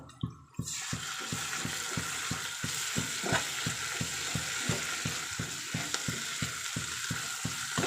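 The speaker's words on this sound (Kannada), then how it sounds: "ನೀಟಾಗಿ ಫ್ರೈ ಮಾಡ್ಕೊಳ್ಳೋಣ" Ginger garlic paste being fried in a pan, a steady sizzle overlaid by quick, regular scraping strokes of a stirring spoon, close and fairly loud with no talk.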